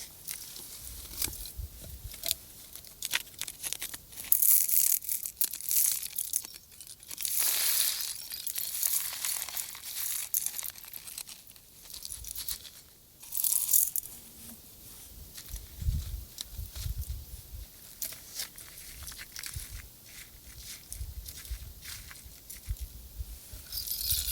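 Soft, irregular rattling and crunching of small river stones sliding and trickling into a bamboo rain stick, close and fairly quiet, in uneven bursts with brief pauses.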